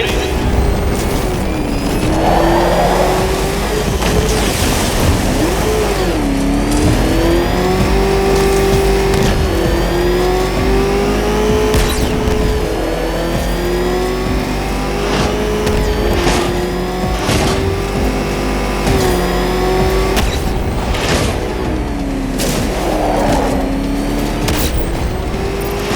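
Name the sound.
Batmobile engine revving in video game Batman Arkham Knight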